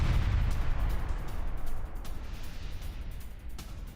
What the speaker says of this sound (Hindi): बॉर्डर से सटे 5 इलाकों में आर्टिलरी अटैक